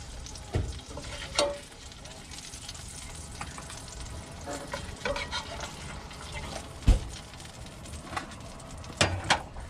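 Pot stickers fry in a pan in an RV kitchen, a soft continuous sizzle under scattered clinks and scrapes, with a few louder knocks of a utensil against the pan.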